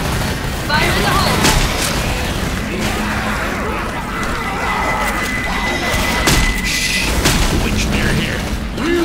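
Grenade blast and gunfire in the zombie shooter Left 4 Dead 2, with loud booms and rattling shots running through the whole stretch over dense game noise, as players call out to one another.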